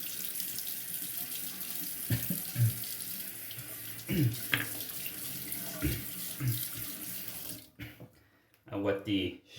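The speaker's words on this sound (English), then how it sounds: "I'm gonna wet the face and get face lathering" Tap water runs steadily into a sink while the face is wet before shaving, a continuous close splashing hiss with intermittent hand splashes and brief voice sounds, stopping near the end.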